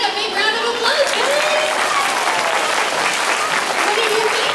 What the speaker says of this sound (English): Give Elena a big round of applause